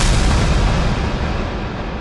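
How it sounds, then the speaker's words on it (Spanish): Bullet train bursting out of a tunnel with a deep explosive boom from compressed air, a loud broad rumbling blast that fills the moment and slowly eases, with no voices. "estos ruidos estruendosos generados al comprimir el aire en el túnel de tal forma que producían una explosión al salir"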